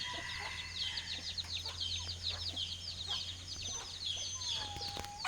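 Chickens cluck in short bursts over a steady low hum, with a farm setting suggested by scattered fowl calls; the clucking is moderately near and there is no talking.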